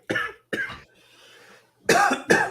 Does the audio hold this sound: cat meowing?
no